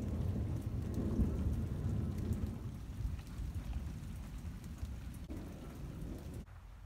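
A thunderstorm outside with steady heavy rain and deep rolling thunder that swells early and then fades, loud and continuous with no voices.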